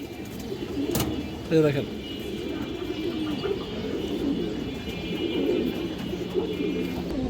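A male Sapchila pigeon of an old breed coos softly amid a general chorus of other birds, with a brief burst of someone speaking nearby early on.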